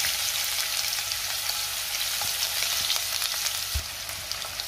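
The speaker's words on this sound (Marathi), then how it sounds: "कांदा 2 मिनिटं मी चांगला परतून घेणार आहे।" Chopped onion sizzles steadily in hot oil with mustard seeds, cumin, asafoetida and curry leaves in a pan for methi pithla, a constant close frying hiss with a single soft knock near the end.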